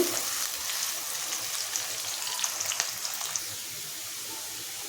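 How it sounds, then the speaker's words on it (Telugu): Onions and curry leaves fry over a medium flame for a chicken curry, a continuous close sizzle with a few faint clinks of stirring and no speech. "ఈ ఉల్లిపాయ కొంచెం ఎర్రగా వేగేంత వరకు కూడా స్టవ్ మీడియంలోనే పెట్టుకోండి"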